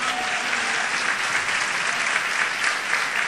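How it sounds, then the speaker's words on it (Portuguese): A church congregation bursts into steady, dense applause during a sermon, many hands clapping at once in a continuous wash of sound with no voices over it. "pode aplaudir porque o Senhor merece"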